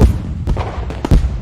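An artillery firework goes off in a video game, a few loud, close booms and thuds in quick succession over a short burst.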